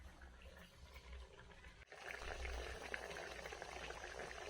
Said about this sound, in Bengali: এই যে চিংড়ি মাছের মালাইকারির ঝোলটা ফুটে গেছে।